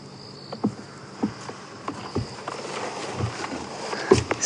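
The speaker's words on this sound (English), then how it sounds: "you might just be able to hear very subtle sounds of crickets" Crickets chirr faintly at night on a safari drive at Djuma Game Reserve, a steady high hum beneath soft, irregular crunching as a buffalo grazes nearby, tearing grass at close range.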